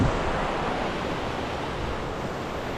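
The East Lyn River rushes through its gorge on Exmoor as a steady, loud, broadband roar of rapids that fills the whole clip without a break, with no voices.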